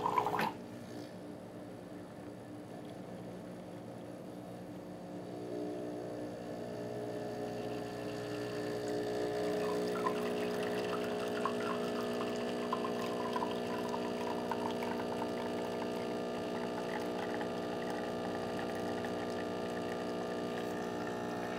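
A Breville Barista Touch espresso machine dispenses hot water for an Americano: a steady pump hum with the pouring water rising slightly halfway through, continuous and close, with no talk.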